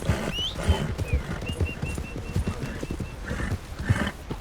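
Steady clip-clop of horse hooves on hard ground in Red Dead Redemption 2, a continuous rhythmic trot with an occasional whinny and faint birdsong in the background.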